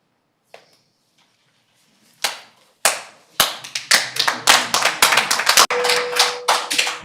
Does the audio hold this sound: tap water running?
no